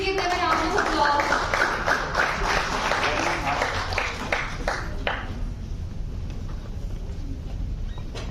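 Applause from an audience at a Delhi gathering on India–Africa friendship as guests are called on stage to be honoured, a dense, steady patter of clapping lasting throughout, with a voice speaking over it early on.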